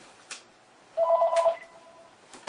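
A telephone rings with a short electronic trill, a brief faint burst early on and then a clearer ringing pulse near the middle, against a quiet room.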